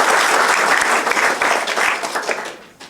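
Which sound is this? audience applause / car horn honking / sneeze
audience applause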